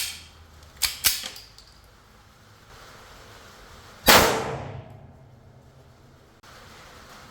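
A blank gun firing a 6mm plastic BB: two small sharp clicks, then one loud, close bang whose ringing tail dies away over a second or so.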